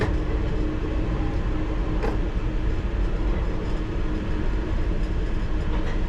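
A London Underground Piccadilly Line train running near Arnos Grove, with a steady loud rumble and faint clicks of wheels on the track throughout.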